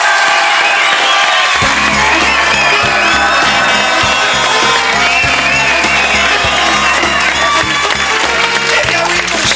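A French television studio audience bursts into loud, sustained applause with cheers and whoops, steady and dense throughout, while music plays underneath.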